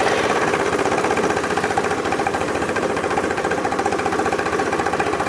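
A car engine idling at a steady, even rhythm with a continuous mechanical hum and faint knocking pulse, close and moderately loud, no talk.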